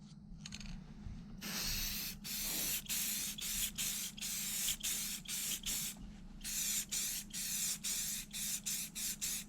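A spray paint can applies ceramic coating to a boat propeller in short repeated bursts, each a sharp loud hiss, starting with a longer spray then settling into a steady rhythm of about a dozen quick pulses.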